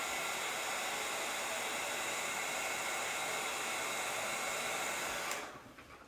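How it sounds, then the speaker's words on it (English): A handheld heat tool blows steadily to heat-set chalk paste, a loud continuous airy whoosh close to the microphone that cuts off near the end. "I'm actually even going to heat set that real quick."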